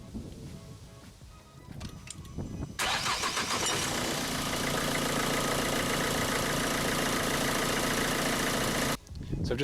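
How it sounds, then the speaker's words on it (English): A Vauxhall Astra 1.7 CDTI diesel engine cranks and catches, then settles into a steady, loud idle for several seconds before cutting off abruptly. "So I've just ran the engine for a minute"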